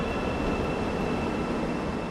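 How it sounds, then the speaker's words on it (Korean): A Seoul subway train pulls into a station heading toward Seoul Station, a loud steady rumble of wheels and motors with a faint high tone over it, no voices. "새로운 지하철이 들어옵니다"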